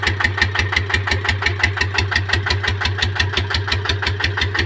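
A Magnum GT 155 diesel engine runs steadily while driving a turbine water pump, a close, loud, rapid, even thumping beat with a low rumble underneath and no voices.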